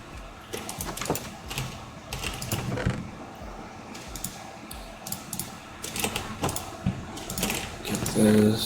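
Loud keyboard typing during a Twitch stream, a dense run of sharp clicky keystrokes in bursts across the whole stretch, close and prominent, with a voice talking intermittently underneath.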